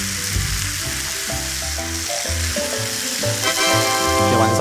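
Mushrooms sizzle and crackle loudly in a hot pan over high heat, with clattering stirring and scraping sounds throughout, no voices.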